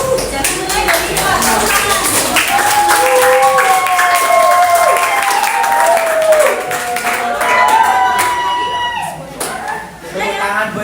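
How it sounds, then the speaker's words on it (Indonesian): Applause for a student named Jenny fills a classroom, a steady spread of many hands clapping for several seconds while voices talk and call out over it. "Tepuk tangan buat Jenny."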